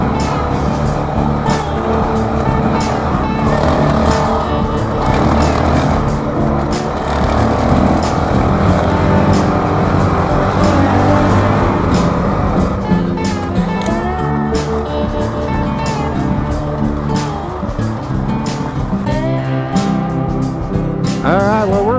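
A Honda CRF450RL dirt bike ridden on rough unmaintained Ohio back roads, its engine droning loud and close throughout with throttle rises, gear changes and revving bursts.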